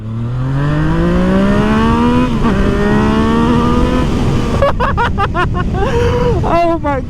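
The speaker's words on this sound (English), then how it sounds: "The Krapovich exhaust is sounding proper." A Yamaha MT-09 motorcycle fitted with an Akrapovic exhaust roars loudly while riding, engine pitch climbing steadily then dropping, with sharp crackles and revs near the end.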